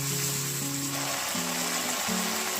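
Ginger and garlic paste frying in a pan, a steady, even sizzling hiss held close throughout, with a sustained tonal melody layered over it.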